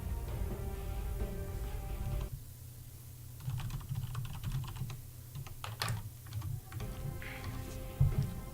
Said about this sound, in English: So I'm just typing away as well.